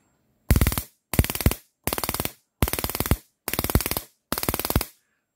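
An ignition coil driver running at low speed fires six sharp crackling bursts of rapid sparks, each about half a second long, loud and close, separated by brief silences.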